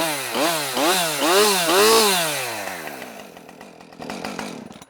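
Husqvarna 545 chainsaw starting up and running, loud two-stroke engine revving up and down in several sharp pulses before settling into a rough, crackling lower idle, close by with no talk.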